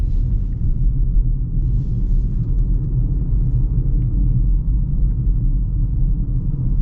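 A 2026 Chevy Equinox AWD driving on the road, heard from inside the cabin as a steady, loud, low road and engine rumble that holds constant throughout with no talk.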